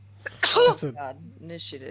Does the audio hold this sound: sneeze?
yes